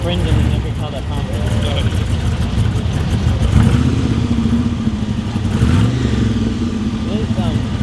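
Car engine revving as vehicles pass at a Mad Max 40th anniversary gathering in Clunes and Maryborough, a steady loud rumble with rising and falling revs under continuous crowd chatter and voices.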